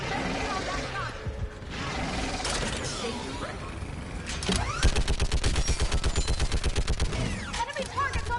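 Mounted turret in the video game Mass Effect 3 blasts a long, fast rhythmic burst of heavy automatic fire, loud and close, after a stretch of mechanical clanks and battle noise.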